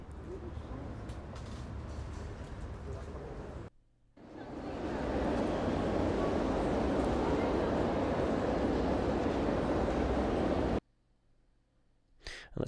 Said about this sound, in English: Outdoor cafe.